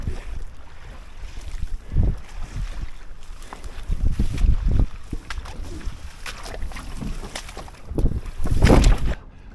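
A sailboat moves under sail with wind buffeting the microphone, while water sloshes and rushes along the hull in uneven surges that swell louder toward the end, with no talk.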